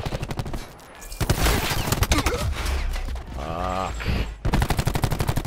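Rapid automatic gunfire in a competitive online shooter match, loud bursts of shots rattling through most of the stretch, with a player cursing and game sounds between the volleys.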